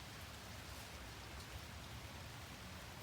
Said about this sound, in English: See all the raining?